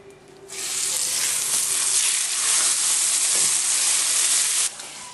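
Seasoned steak sizzles in a pan over low to medium heat, a steady broadband hiss that swells in after a quiet start and holds loud and close before dropping off near the end.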